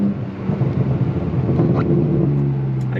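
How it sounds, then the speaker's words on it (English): Straight-piped BMW M4 F82 engine rumbling loudly from inside the car, with a deep steady drone and brief rising blips as it downshifts, no talking. "I guess the universe just wants you all to hear all the downshifts possible"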